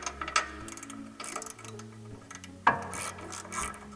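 A ratchet with a 15mm socket and a T50 bit loosens a suspension bolt on a Tesla Model 3 or Model Y, giving near, rapid pawl clicking bursts across the clip with a sharper crack as the bolt breaks free.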